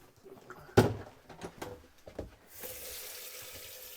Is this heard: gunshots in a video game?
no